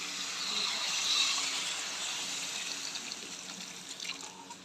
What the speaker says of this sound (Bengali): সবজিটা ভাজা হয়ে গেছে, এখন জল দিয়ে দেওয়া।